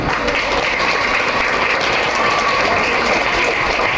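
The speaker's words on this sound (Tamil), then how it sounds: "நீங்கள் எல்லாரும் பெரிய கரகோஷத்தோட கை தட்டுங்க" An audience at a Tamil trust gathering gives a loud, dense round of clapping for an honoured speaker. The steady wall of hand claps continues unbroken throughout, close and full, with no speech on top.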